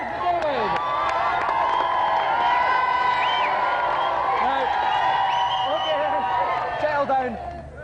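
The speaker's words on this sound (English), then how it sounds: "Round of applause for David." A lively studio audience cheers and claps loudly, with whoops and shouts rising over steady applause before it fades near the end.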